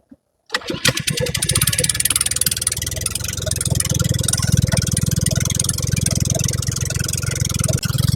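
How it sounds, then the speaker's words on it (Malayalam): Motor-fitted country boat on Kerala backwaters near Sambranikodi Island, Kollam, its engine starting and then running loud and steady with a rapid chugging pulse close by. "മോട്ടർ ഘടിപ്പിച്ച വള്ളമാണ്"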